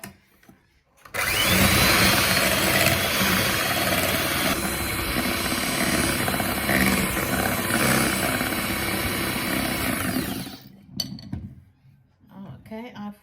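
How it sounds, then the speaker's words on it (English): Electric whisk beating eggs with sugar in a bowl for a chocolate Swiss roll, a loud steady motor whir that starts abruptly, runs for about nine seconds and cuts off, with brief quiet after. "we're going to whisk this until it's light and creamy."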